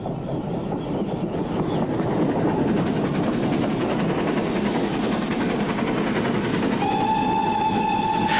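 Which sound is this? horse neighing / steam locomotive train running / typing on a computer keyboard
steam locomotive train running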